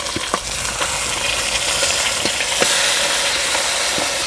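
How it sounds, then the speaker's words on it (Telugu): Chunks of mutton coated in ginger garlic paste sizzle and fry steadily in a hot pan for a gongura mutton biryani, with a few sharp scrapes and clicks of stirring. No voices are heard. "2 చెంచాలు అల్లం వెల్లుల్లి పేస్ట్ వేసుకొని పచ్చివాసన పోయే వారికి కలుపుకుందాం."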